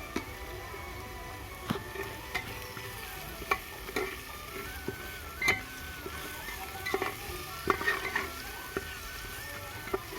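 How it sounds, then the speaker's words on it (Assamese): Onion, garlic, ginger and turmeric frying in oil in a pan, a soft continuous sizzle broken by sharp scraping strokes of a stirring spoon at irregular intervals. "এইখিনি আকৌ ভাজিম মই।"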